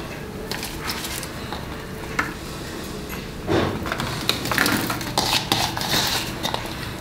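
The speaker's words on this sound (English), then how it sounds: "I have some green onions, and we are going to put them on" Green onions go into a pan of cooking asparagus, giving a steady sizzle with scraping and clattering from a utensil against the pan, which grows busier midway. No one speaks.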